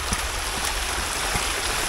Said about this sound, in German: Das Wasser kommt aus dem Schlauch.